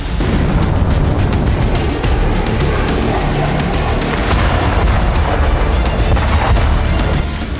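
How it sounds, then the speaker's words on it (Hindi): Missile-attack explosions at night in Kaluga, Russia: a continuous loud barrage of booming blasts and crashing impacts, dense and sustained throughout with sharp percussive hits scattered over a rumbling roar. "रूस के कलुगा में कई धमाके सुने गए।"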